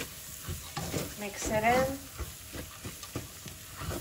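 Ingredients stirred and frying in a pot while making Persian lentil stew (khoresh addas), with a steady sizzle under repeated scraping stirs and a brief voice partway through.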